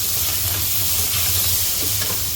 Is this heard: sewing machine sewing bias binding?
no